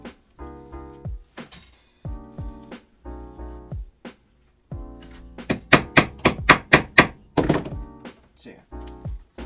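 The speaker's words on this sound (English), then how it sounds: "just punched a hole in the glove right here for the rivet to go in" A hole punch is struck repeatedly through a glove to make a rivet hole for homemade gauntlets, giving a quick run of sharp, close thunks in the middle, with voice-like tones before and after.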